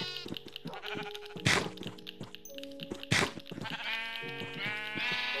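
Sheep in Minecraft bleat repeatedly, overlapping synthetic baas close up alongside a steady flow of game sound effects, with two sharp thwacks cutting in.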